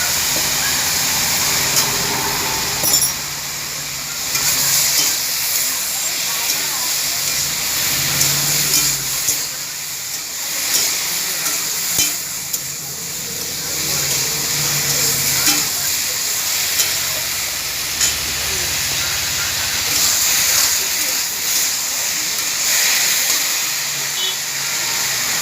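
Ridge gourd and potato with turmeric sizzling in a pan, a loud steady hiss of frying with occasional stirring scrapes, close and continuous without talk.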